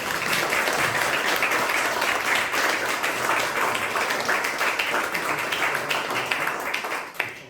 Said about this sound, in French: Donc je vous propose un petit applaudissement pour Clément